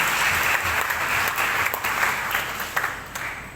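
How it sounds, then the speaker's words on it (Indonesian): Audience applause at a graduation ceremony, a dense crowd clapping steadily that thins a little toward the end, with a faint voice under it. "Kasih tepuk tangan buat Tuhan."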